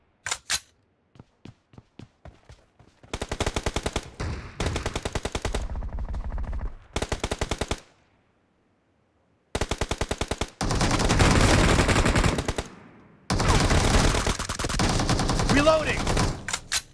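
Rapid automatic gunfire in a shooting video game rattles in long loud bursts separated by silences, with scattered single shots at the start and a voice heard briefly.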